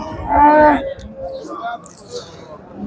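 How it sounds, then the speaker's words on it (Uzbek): A cow at a livestock market lets out a single loud, close moo lasting under a second, followed by faint background chatter and crowd noise from the market. "bu yerda mollar bor ekan."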